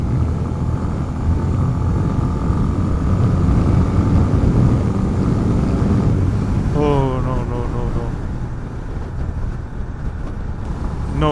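A Honda CB 350 motorcycle accelerating hard in third gear on a road, its engine a loud, steady rumbling drone mixed with heavy wind noise, with a rider talking over it partway through.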